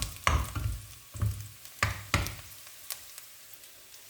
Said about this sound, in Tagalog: paitimin muna natin kasi gusto niya yung maitim-itim yung sibuyas